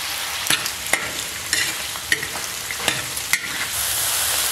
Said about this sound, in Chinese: 五花肉给它扒成变色了啊